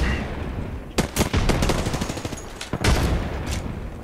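Gunfire in the video game Apex Legends, loud rapid bursts of automatic shots crackling in quick succession with short gaps between volleys.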